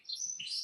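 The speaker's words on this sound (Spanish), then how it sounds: "Tengo un pájaro cantando." A bird sings nearby in short, high chirping notes, brief and clear against a quiet background.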